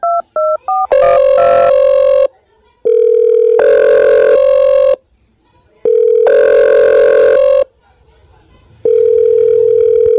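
A short burst of keypad dial beeps gives way to a loud, clean telephone ringing tone that repeats in long, evenly spaced bursts with silent gaps between them.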